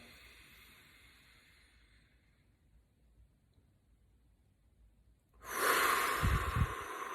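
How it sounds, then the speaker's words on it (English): A person draws a soft, faint inhale, pauses in near silence, then pushes out a loud, breathy exhale through the mouth that rushes on for almost two seconds, close to the mic. "I'll breathe in but exhale loudly through my mouth"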